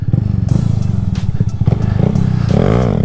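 A Honda Grom motorcycle held at full throttle on a Washington road, its engine note loud and close with a continuous buzzing drone that wavers slightly in pitch, plus some wind and clatter.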